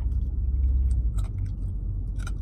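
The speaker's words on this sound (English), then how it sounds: "You can hear carrots crunch." Crunchy creamy coleslaw with chunky cut carrots being chewed up close, with muffled mouth sounds under a few sharp crunching bursts, no talking.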